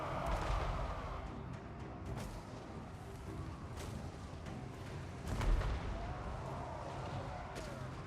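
Flame cannons fire in the Total War: Warhammer 3 battle, Immortal Empires campaign, giving repeated rough bursts and booms over a steady roar of combat noise. One heavier blast stands out midway.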